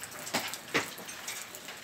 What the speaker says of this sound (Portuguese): Chuva fraca e continuada.